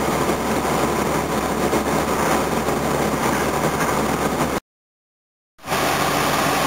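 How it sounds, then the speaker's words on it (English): Engine of an old Volvo droning loudly inside the hot cabin, a steady broadband roar that runs unbroken for several seconds, cuts out completely for about a second, then resumes. "it's pretty noisy in the cabin. You can hear all the engine"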